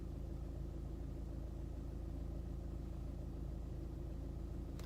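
A car engine idles and rumbles close by in a parking spot, a steady low drone running unbroken with no talking.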